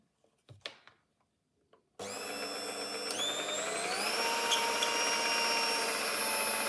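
A Tefal HT650E Power Mix Silence hand mixer switches on after a few faint handling knocks, then runs as a loud, steady whine whose pitch steps up as the speed increases, continuing alone to the end.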